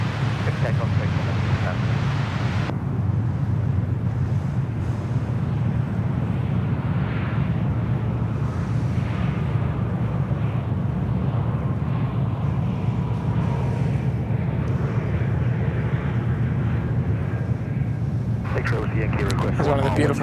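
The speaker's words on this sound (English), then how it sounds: "Delta 764 on a 34 left, clear for takeoff." A Delta airliner rolls for takeoff on runway 34 left at Sydney Airport, a sustained low engine roar with heavy wind rumble over the microphone, steady and loud throughout, with voices briefly present.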